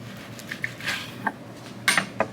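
A knife cuts through baby back ribs, with a few faint slicing scrapes and sharp metallic clinks against a board.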